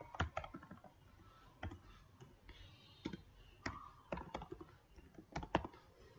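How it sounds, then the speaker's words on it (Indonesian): An email address typed on a computer keyboard, heard as quiet, close, irregular key clicks in short bursts with small pauses and no talk. "kita tinggal ketikkan emailnya"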